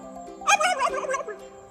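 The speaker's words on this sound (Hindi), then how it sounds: "टर्की" A turkey gobbles in a single rapid, warbling burst that rises loud and then trails off, heard alone and up close.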